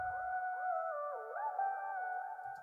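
A pitched vocal sample for a beat, processed with EQ trimming lows and highs, holds a smooth sustained melodic line with a few gliding bends, steady and alone for under three seconds.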